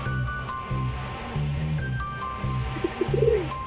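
Pigeon coos in the Darkside Detective video game, a short soft burble near the end over a looping low music bed with faint chimes.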